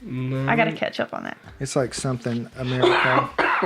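A short cough cuts in among people chatting, with speech continuing around it.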